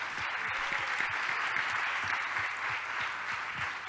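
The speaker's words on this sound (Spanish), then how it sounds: "¿por qué no nos aplaudimos entre todos?" A gathered audience at a Campafuego 2022 church gathering applauds steadily together, a dense, sustained wash of clapping that fills the room without pause.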